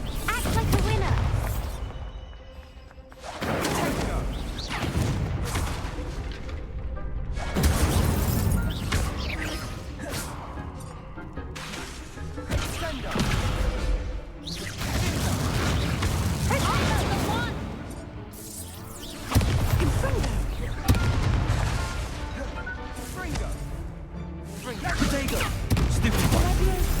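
Spell effects in Hogwarts Legacy, including Stupefy and Incendio, crashing and whooshing in dense, repeated bursts with booming impacts that fill the whole stretch, loud and close, while a voice calls out spells between them.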